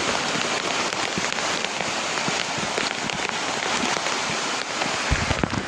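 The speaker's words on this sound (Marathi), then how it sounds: "पाऊस खूप जोरात चालू आहे आणि शूटिंग करणंही मुश्किल झालेलं आहे" Heavy rain pours during a trek up Kalsubai peak in Maharashtra: a dense, loud, continuous hiss of rain with scattered close drop impacts, steady throughout, with no talking.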